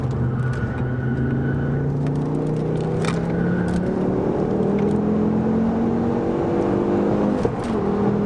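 A newly tuned Mk2 Ford Focus ST drives hard, its engine note climbing steadily through rising revs in a continuous, loud close-up drone with no talking.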